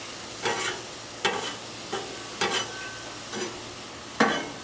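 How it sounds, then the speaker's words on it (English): Broccoli sizzling and charring in a hot pan, a steady frying hiss broken by five sharp stirring scrapes at regular intervals. "I also like a little bit of char on the broccoli, so I like to let it sit there for a little bit"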